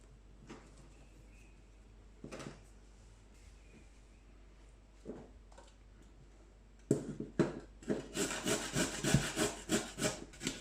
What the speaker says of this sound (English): we're just gonna peel some daikon radish and grate it so that we can add it to the dipping sauce